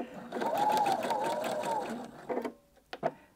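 A sewing machine runs a short seam on bias binding with a quick back tack, a close burst of stitching that stops, followed by brief clicks and short restarts.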